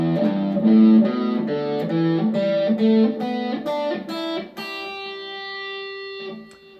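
Electric guitar run through an effects unit plays a pentatonic scale as a clear sequence of single picked notes rising step by step, ending on a few longer ringing notes, with no talking.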